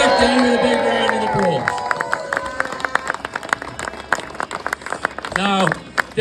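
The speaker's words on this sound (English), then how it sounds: "Please give David a big round of" An outdoor crowd at a farmers' gathering breaks into scattered clapping and some cheering after a speaker's voice fades, the applause irregular and moderately close, with a voice briefly rising near the end.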